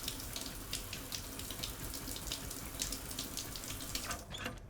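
Shower water runs in the Stationeers survival video game, a steady hissing spray that holds at a moderate level for several seconds with no talking.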